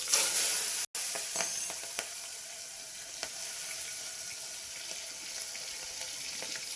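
Asafoetida, green chillies and lemon hit hot oil in a pan with a loud, steady hiss that starts sharply and then settles into continuous bubbling sizzle, close up, with no talking.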